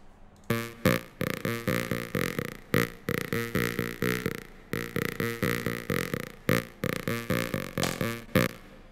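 A gritty synth through a vowel filter plays a choppy, rhythmic pattern of short notes with a throaty, talking vowel-like tone, loud and up front with no voices.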